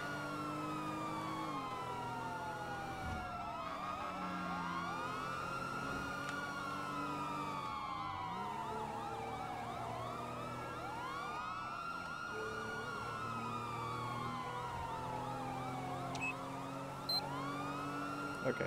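A police car siren wails in a video game roleplay chase, its long rising and falling sweeps repeating steadily and loudly, with no talk over it.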